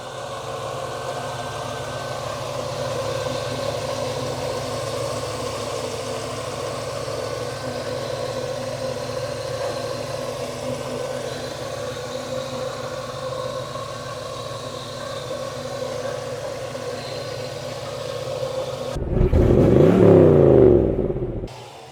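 A 1994 Corvette V8 being revived after sitting, running at a steady, even idle with a constant low rumble; near the end the engine revs up briefly and louder, then settles and cuts off abruptly.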